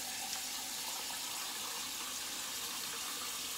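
Steady broadband rush of running tap water as a vintage Heinr. Böker Edelweiss 5/8 inch straight razor is rinsed, continuous and close with no pauses or voices.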